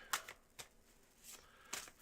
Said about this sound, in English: here are your 4 official shuffles there, Mr. Savage.